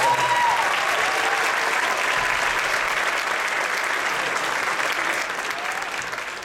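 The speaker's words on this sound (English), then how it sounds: "Give them a round of applause." A concert audience claps for the Jingle Bells bonus players, a full, steady round of applause from a large crowd that holds evenly and eases off toward the end.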